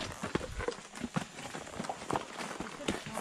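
A horse walks uphill on a muddy trail in Tennessee, with irregular soft squelching hoof steps up close, mixed with rustling and brief talk.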